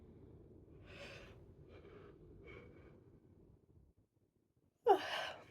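A drawn-out breathy yawn with a few soft exhaled sighs, then a pause and a sharper gasping breath at the end, close and alone.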